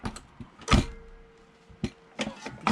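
A We R Memory Keepers button press is rotated, giving a few sharp plastic clunks and a brief mechanical squeak, close and quiet with pauses between the knocks.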